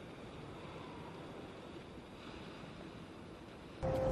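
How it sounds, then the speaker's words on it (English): Steady wash of choppy canal water in Venice, stirred up by passing motorboat wakes, heard as a continuous even surf-like rush with a faint wind tone and no talking. "there's a lot of waves here coming from all the motorboats"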